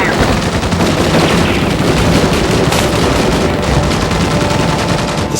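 Loud, dense automatic gunfire and blasts fill the Terminator 2 3D: Battle Across Time attraction, a relentless rapid rattle of shots layered with booms and heavy noise.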